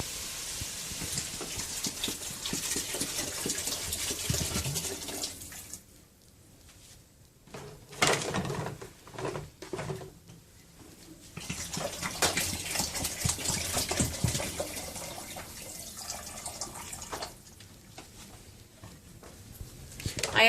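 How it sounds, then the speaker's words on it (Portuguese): Water poured into a tomato sauce cooking in a pan, heard as a rushing gush with sizzling and splashing in two long stretches, separated by clatter and handling noise. "a gente já pode acrescentar aqui a água"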